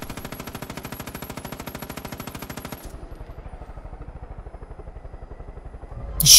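Rapid automatic gunfire in Far Cry 5, a fast steady burst of evenly spaced shots for about three seconds, then a slower, duller run of shots continuing, loud and without talk.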